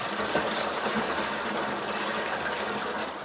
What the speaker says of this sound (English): I bring it inside and pour it into a small barrel.